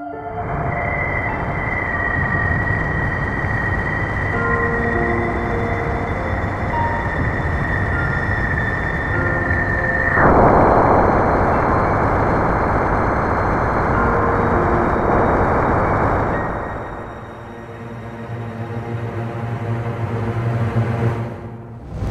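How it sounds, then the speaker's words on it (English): Sonified plasma waves from Jupiter's bow shock: a dense, droning wash of sustained tones and hiss, steady and loud throughout, shifting in texture midway and again near the end, with no voices. "That was the sound of the Jovian bow shock."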